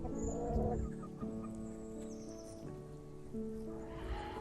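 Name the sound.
chickens and young chicks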